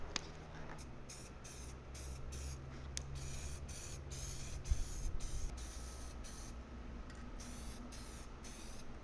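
Trim restoration product sprays from an even nozzle in a string of short, regular hissing bursts, close and fairly quiet, with brief pauses between each spurt.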